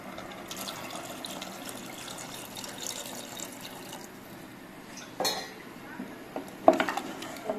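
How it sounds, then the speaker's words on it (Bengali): Water is poured into a pressure cooker holding lentils and sugar, a soft continuous splash and trickle, close up, with a couple of metallic clinks of the pot near the end. "পরিমাণ মতন আমি জল দিয়ে দেবো"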